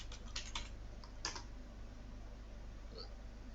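Keys on a computer keyboard clatter in a few quick bursts of typing, close and fairly quiet over low steady room hum, then a faint single click near the end.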